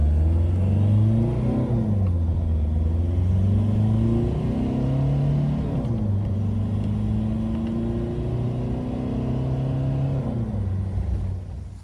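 A tired engine in a VW Golf Mk1 runs and revs, its low droning note rising and falling through several throttle blips before settling into a steady hum, close and loud.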